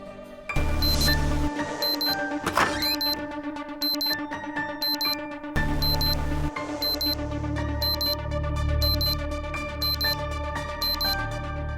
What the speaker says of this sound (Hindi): कौन बेवकूफ यहाँ अलार्म लगा के चला गया है सुबह सुबह फोन पे?